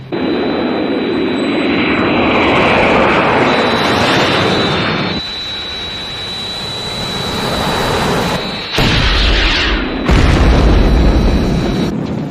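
Thunderbird 1, a jet in a puppet TV adventure, roars loudly and continuously under attack from aircraft, with booming explosions and abrupt loud cuts toward the end.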